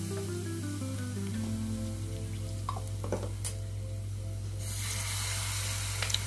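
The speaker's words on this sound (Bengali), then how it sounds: "খুব ভালো করে এবার নাড়িয়ে চাড়িয়ে নেব।" Ground cumin, coriander and a little turmeric sizzle in hot oil in a pan and get stirred, a soft steady frying hiss that grows brighter near the end, heard under a low background hum and faint music.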